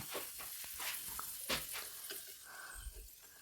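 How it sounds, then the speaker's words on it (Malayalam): Soft sizzling of dry fruits frying in a pan, broken by scraping stirs and light clinks, fairly quiet and close. "അതുപോലെ അതൊന്ന് നല്ലപോലെ മുപ്പിച്ച് നമ്മൾ പായസത്തിനൊക്കെ ഇടുന്ന പോലെ ഒന്ന് വറുത്തെടുത്ത് മാറ്റി വെക്കാം"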